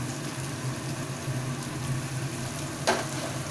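Onions fry in a pan for a village-style fig curry, giving a continuous crackling sizzle at an even level, with one brief sharp clink near the end and no talking.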